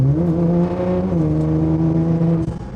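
A Liberty Walk Nissan R35 GTR cruises on the highway, its engine holding a strong, steady tonal drone with a brief dip and shift in pitch, loud and close throughout with no talking.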